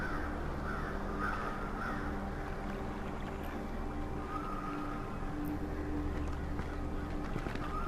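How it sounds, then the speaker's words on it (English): Crows caw a few times at a distance in the video game Saint Kotar, faint against a steady, dense ambient background of water and wind. "Damn crows!"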